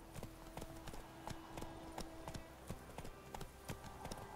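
Horse hooves trot in a steady clip-clop rhythm on a road in The Witcher 3, close and continuous beneath a low ambient background.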